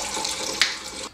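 Hot tap water runs and splashes while Le Parfait glass jars are washed at a kitchen sink, a short steady pour with one brief sharper splash, no voices.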